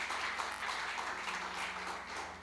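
A church congregation applauds together, a steady, dense wash of clapping that fills the room and holds evenly throughout without any voices over it.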